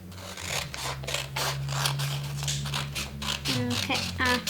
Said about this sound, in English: And then you take the scissors